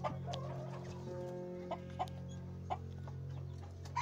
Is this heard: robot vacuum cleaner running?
no